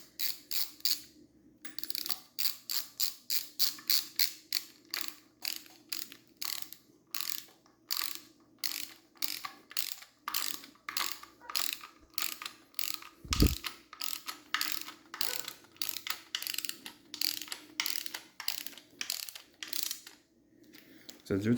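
A torque wrench ratchets while bolts are tightened during a Triumph TR6 engine rebuild: a long run of close, crisp clicks in steady bursts, with brief pauses between strokes and a single sharp knock partway through.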